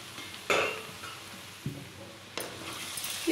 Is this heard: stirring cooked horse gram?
yes